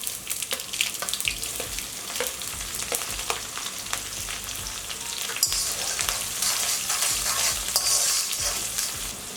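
Garlic, cumin and mustard seeds sizzle steadily in hot oil while a spoon stirs and scrapes the pan with repeated clicks, close and clear, with no one talking.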